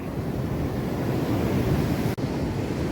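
A steady, loud roar of surf washing in, mixed with wind buffeting the microphone, with one abrupt brief cut near the end.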